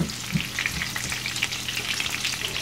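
Onions sauteing in a pan for liver and onions, a steady close crackling sizzle with faint stirring scrapes, continuous and fairly loud with no talking.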